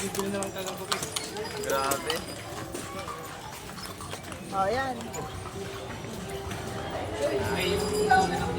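Steady clip-clop of horse hooves on pavement amid a busy crowd, with people chatting nearby and a brief whinny.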